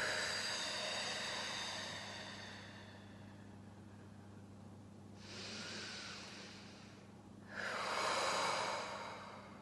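Slow, steady breaths out during a pelvic floor and transverse abdominal exercise, soft airy exhales heard close over a constant low hum, with a stronger breath near the end.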